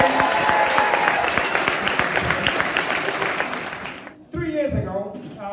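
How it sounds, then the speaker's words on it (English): Applause for award winners at a basketball club's end-of-season ceremony, a crowd clapping loudly for about four seconds before it fades out and a voice begins speaking. "So can we give 4 of them a round of applause?"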